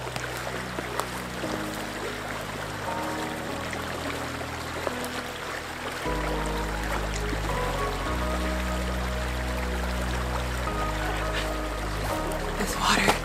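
Cold snowmelt water from mountain snowcaps flows in a steady, continuous rush with a low rumble beneath, close and even throughout, during a spring camping trip in the mountains.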